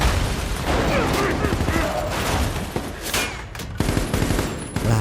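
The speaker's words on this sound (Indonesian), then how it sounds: "sontak terjadilah aksi saling menembak di antara kedua pasukan itu" A film gun battle between two forces: dense, loud volleys of rifle and machine-gun fire crackle continuously with sharp individual shots and booming reports, under a dense, noisy mix.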